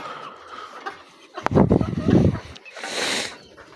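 Cochin chickens let out into a garden give a few clucks and fowl calls at close range, mixed with shuffling and a brief rustling burst, while a person speaks nearby.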